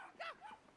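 A small dog in Brothers: A Tale of Two Sons gives a couple of quick, high yips and a whimpering bark, faint and close, with no talk over it.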